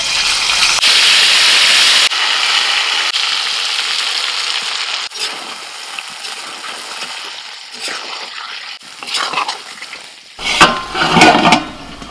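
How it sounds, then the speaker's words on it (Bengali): Marinated potatoes sizzle and crackle in oil left from frying onions for biryani, a steady loud hiss with stirring scrapes and bursts of spattering toward the end. "বেরেস্তা ভাজার যে তেলটা আছে ওই তেলের মধ্যে আমি আলুটাকে কষে নেব"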